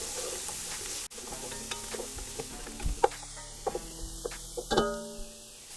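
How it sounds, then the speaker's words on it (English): Chopped fresh garlic frying in a pan: a low, steady sizzle under scattered soft scrapes and taps of stirring, fairly quiet and close. "probably a tablespoon and a half of chopped fresh garlic. Cook that through only for a minute or 2 at the most."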